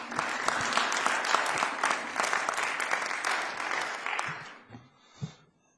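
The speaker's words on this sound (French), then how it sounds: "Je vous remercie donc de l'applaudir." An audience at a book presentation applauds a speaker, with steady, moderately loud clapping filling about four seconds before tapering off into a few faint final claps.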